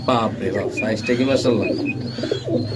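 Soft pigeon cooing repeats nearby while people talk over it, the calls partly buried under the voices.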